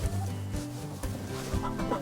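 Chickens cluck close by in a steady run of low, throaty bursts that overlap one another and continue through the clip with no pauses.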